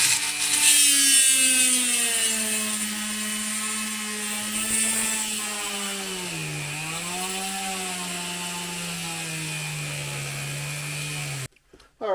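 A power drill bores holes through a Weber IDF carburettor, a loud close whine that sags and recovers in pitch as the bit bites into the metal, running continuously for about eleven seconds before stopping abruptly.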